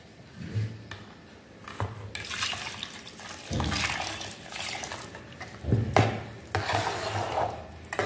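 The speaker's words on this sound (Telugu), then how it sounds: "ఇప్పుడు మనం దీంట్లోకి కొంచెం వాటర్ వేసుకుందాం." Water is added to freshly churned homemade butter and stirred, producing close, uneven sloshing and rubbing strokes that swell and fade in bursts without talk.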